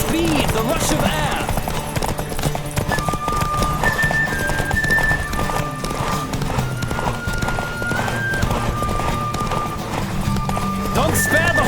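Racing horses in The Witcher 3 thunder along with continuous rapid hoofbeats, an occasional whinny rising over the gallop, while voices and game sounds carry on underneath.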